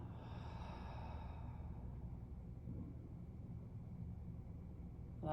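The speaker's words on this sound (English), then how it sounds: "And exhale through the mouth." A slow yoga breath let out through the mouth, heard as a soft, steady airy exhale that fades over several seconds, close and quiet, ending with a brief louder rustle.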